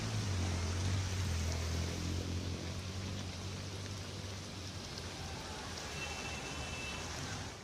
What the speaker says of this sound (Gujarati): તો સુરતમાં ધોધમાર વરસાદ યથાવત જોવા મળ્યો છે